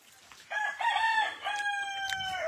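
Chickens on a rural farm in the Philippines, being gathered to move into town: several loud, close crowing and clucking calls in quick succession, one long drawn-out call at the end, with no speech over them.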